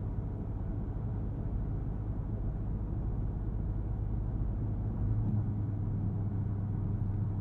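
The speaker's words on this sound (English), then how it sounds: "with a partial amount of throttle, you're always going to hear the rumble of that HEMI" A Chrysler 300C HEMI V8 rumbles low and steady from inside the cabin, easing off into a subdued drone mixed with road and tire noise at cruising speed.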